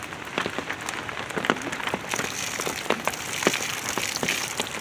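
Heavy monsoon-style rain pours onto a makeshift tarp shelter outdoors, a dense steady patter and hiss with scattered sharper drops striking the covering.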